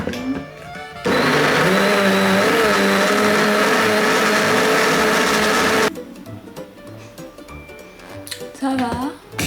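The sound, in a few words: blender mixing a smoothie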